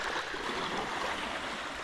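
A strong river current flowing out across the Baltic seashore between Klaipėda and Palanga, a soft, steady rush of water heard faintly at a distance for a brief moment, with no voices.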